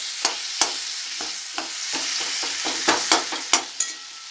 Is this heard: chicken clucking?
no